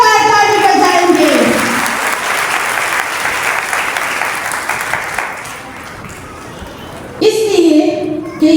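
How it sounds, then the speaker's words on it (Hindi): A church congregation claps loudly for the living Lord during a Hindi-Urdu sermon, a dense burst of applause that swells and fades in the middle, framed by a preacher's voice before and after. "जिंदा खुदावंद के लिए जोरदार ताली बजाएंगे।"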